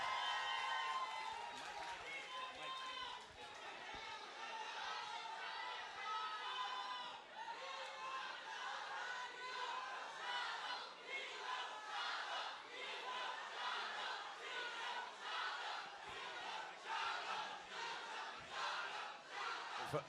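A large crowd at a film success event for a Shah Rukh Khan, Deepika Padukone and John Abraham release cheers and yells continuously, a dense roaring wall of voices filling the venue with rhythmic chanting swells.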